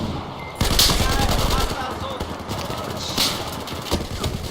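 Ace 32 rifle fire in Battlefield 4 comes as rapid, steady shots under layered battle noise, with a few louder bursts standing out.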